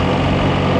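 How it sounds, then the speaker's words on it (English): A BMW R1300RT motorcycle engine lugs at low revs in third gear, giving a steady, close, deep rumble with no voices over it. "But here I'm in 3rd gear and I feel like the engine is sort of lugging"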